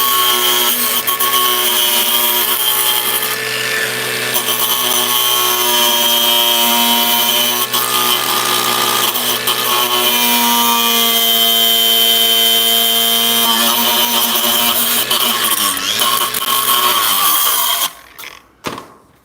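A loud, continuous whining power tool grinds through small tack welds on a custom 1968 VW, holding a steady pitch for most of the time before cutting off abruptly near the end.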